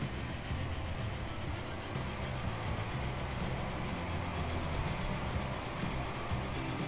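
Train running in the rail-transport sim game Transport Fever, a steady low rumble with faint periodic clicking of the wheels, continuous and moderately loud without pause.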